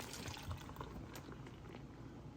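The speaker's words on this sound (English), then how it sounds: "Then we're going to pour it in again." Homemade L. reuteri yogurt mixture poured into containers, a close, continuous liquid pouring and splashing sound with no talk.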